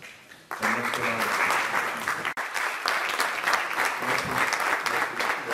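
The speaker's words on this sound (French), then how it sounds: "je voudrais que vous puissiez vous mettre debout pour l'applaudir" A standing ovation at a ceremony for African officials at a crafts training event, dense clapping starting abruptly and continuing steadily, with a voice speaking over parts of it.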